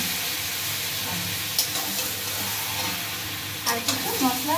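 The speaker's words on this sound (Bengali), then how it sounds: "এবার ম্যারিনেট করে রাখা মাংস, সব কিছু মশলা দেওয়া আছে, আমি এই মশলাটা মাংসটা দিয়ে দিলাম" Marinated, spiced meat is added to fried onions in a pan and sizzles steadily while being stirred, with a few sharp scraping clatters of the spoon against the pan.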